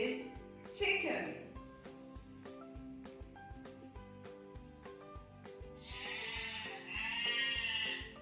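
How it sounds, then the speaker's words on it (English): Sheep bleating in a short educational animal sequence, with a wavering bleat near the start and two longer, louder bleats toward the end, set against a steady musical backing. "What is this animal? It is sheep."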